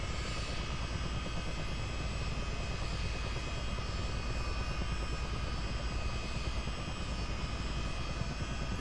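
A CH-47 Chinook helicopter's twin engines run up on the ground. A loud, steady turbine whine blends with deep, throbbing rotor thumps at a constant level throughout, with no talking.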